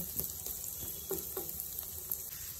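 Sliced onions frying in a pan, a soft steady sizzle with a few light stirring clacks spread through, fairly quiet and without talk.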